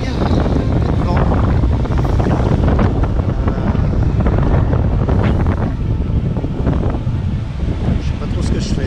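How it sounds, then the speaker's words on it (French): Strong wind buffets the microphone while waves slap steadily on a lake in Patagonia beside a small boat, a dense, continuous roar with no pauses. "il y a pas mal de vagues et de vent"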